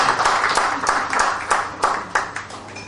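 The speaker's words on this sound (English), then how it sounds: "Please give him a round of applause." A room of guests at a Rotary International day gathering gives a round of applause, lively clapping with distinct hand claps loud and close, slightly uneven in rhythm.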